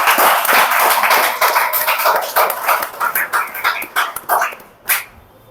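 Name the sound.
students applauding loudly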